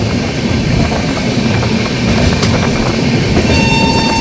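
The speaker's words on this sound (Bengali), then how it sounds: "এখন ট্রেন আমাদের রামপুরহাট জংশন ক্রস করছে।" The Darjeeling Mail, 12343, rolls through Rampurhat Junction, heard from inside a general class coach as a loud, continuous rumble of wheels and rails with faint clatter.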